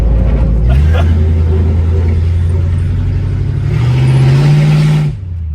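A classic Ford Mustang with a mostly stock little 302 V8 accelerates hard, its loud, close engine rumble rising in pitch and then cutting off abruptly near the end.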